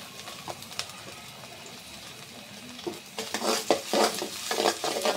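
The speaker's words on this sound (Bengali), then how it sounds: "দিয়ে দিলাম পেঁয়াজের কুচি," Chopped onion goes into a pan with fried ginger for khichuri and sizzles, first a quiet steady frying, then louder scraping stirs in a rapid irregular rhythm near the end.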